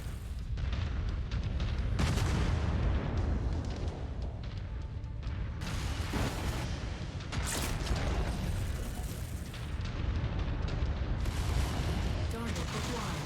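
Mech weapons fire continuously in MechWarrior 5, with dense, loud rumbling booms and mechanical clatter and repeated bursts throughout, mixed with game effects and occasional voice.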